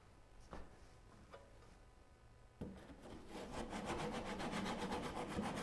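Hand saw making relief cuts in wood for a Moxon vise, a few isolated knocks at first, then rapid rhythmic rasping saw strokes building up close and steady.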